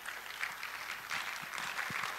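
An audience at the Ghana College of Physicians annual general and scientific meeting applauds to welcome a guest of honor. The clapping is steady, fairly distant and crowd-wide, with no voices heard.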